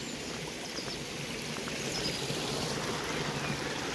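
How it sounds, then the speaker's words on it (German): A small brook flowing where it first emerges from its spring, giving a steady close gurgling trickle with no voices. "Oder zumindest da, wo der Bach zum ersten Mal hier ans Licht tritt."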